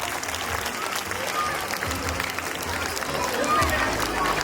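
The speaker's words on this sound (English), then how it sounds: "A big hand of applause" Applause from an audience at a primary school annual function, steady and dense for several seconds, with crowd noise and some voices mixed in.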